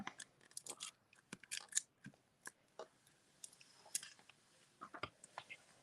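Scissors snipping paper for a handmade card, a quick series of soft, close cuts and crisp clicks at an irregular rhythm, quiet and with no voices.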